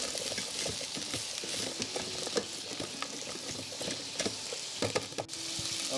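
Chopped onion sizzles and crackles steadily in a hot rice cooker pot for chicken bacon soup, close and continuous with scattered stirring scrapes.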